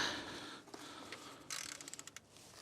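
Thermostat housing bolts on a Vauxhall Corsa D are undone with a ratchet, a faint run of quick rapid clicks following a few scattered metallic taps, close up and quiet.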